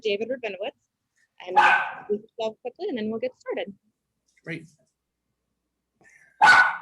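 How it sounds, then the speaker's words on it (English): Dogs barking in the background of a home-office online meeting, with brief bursts that break in between stretches of a man's speech, the loudest near the end. "My apologies for the dogs in the background."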